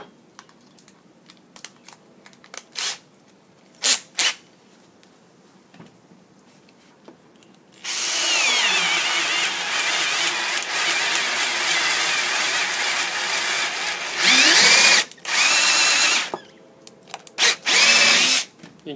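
A sharpened Harbor Freight ship auger bit drills through wood, running as a long, loud steady grind for several seconds, then in a few shorter bursts, with scattered clicks and handling noises between.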